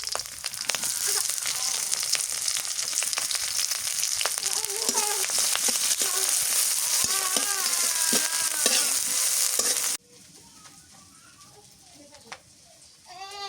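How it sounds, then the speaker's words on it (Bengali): Small river fish, green chilli and chopped onion sizzle in a pan, the frying steady and close with occasional stirring. A voice talks over it, and after about ten seconds the sizzle drops to a fainter background. "এখন ওই মাছগুলো কষাবো, তো কাঁচামরিচ আর পেঁয়াজ কুচি দিয়ে দিই।"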